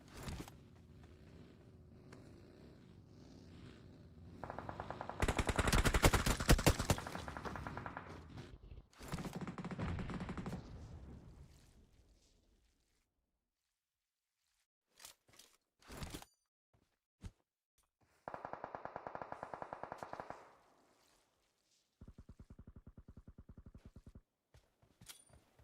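PUBG Mobile gunfire at a hillside fight: a burst of loud shots early, sporadic sharp cracks later, then rapid bursts of weapon fire, with silent gaps between.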